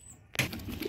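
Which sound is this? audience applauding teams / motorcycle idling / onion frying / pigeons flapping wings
pigeons flapping wings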